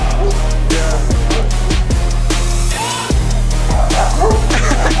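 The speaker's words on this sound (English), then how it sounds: "The dogs are going crazy." Several dogs bark loudly and excitedly in quick bursts, with yips and whimpers mixed in, close by and continuous.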